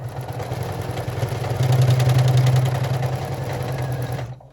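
A sewing machine stitching over pocket pleats of a card slot add-on, a close steady rapid whirring hum that swells louder midway and then stops abruptly.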